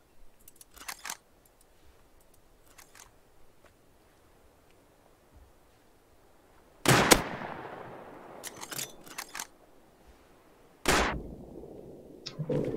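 Gunfire in the game Rust: a few sharp, loud shots with ringing tails arrive in two bursts after a long stretch of quiet, with faint clicks and rustles in between.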